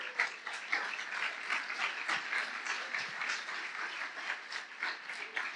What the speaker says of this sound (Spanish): Pues dale un aplauso a Dios.